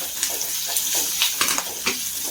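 Salt and curry leaves sizzle and crackle as they hit onions frying in a pan for a brinjal masala curry, a steady close hiss with sharper pops and stirring scrapes throughout.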